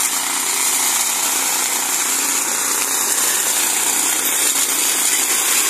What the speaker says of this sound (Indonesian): Ini mesin T16 pesanan Bapak Bontor dari Kalimantan.